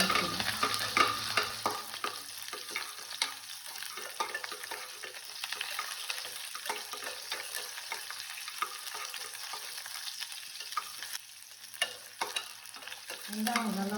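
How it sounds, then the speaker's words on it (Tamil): Chopped small onions sauté in a pan for a radish and dry fish curry, a soft steady sizzle with scraping stirs from a spoon, close and fairly quiet, no voices. "நம்ம வெட்டி வச்சுருக்க சின்ன வெங்காயம் சேர்த்து நல்லா வதக்கிடலாம்."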